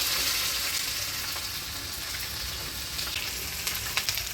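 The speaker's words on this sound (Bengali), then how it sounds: "এবারে দিয়ে দিচ্ছি পেঁয়াজ কুচি," Chopped onion hits hot oil already seasoned with dried red chilli, bay leaf, five-spice and ginger, giving a loud, steady sizzle with occasional crackles and pops throughout.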